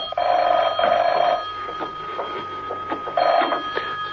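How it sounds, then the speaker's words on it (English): A telephone rings in two bursts of trilling bells, with a quieter stretch between them and no talking. "When he entered his apartment, the phone was ringing."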